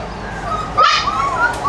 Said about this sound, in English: These are micro mini golden doodles.